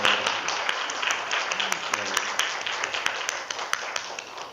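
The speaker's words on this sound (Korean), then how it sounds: "우리 하나님께 영광의 박수를 드리겠습니다" A church congregation claps steadily through a Sunday service, a continuous wash of many hands with a faint rhythmic pulse, moderately loud and filling the room, with some voices mixed in.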